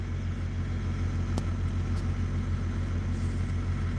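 Inside a truck cab on the move, engine drone and road rumble run loud and unbroken for the whole stretch, with a few faint clicks over the top and no talking.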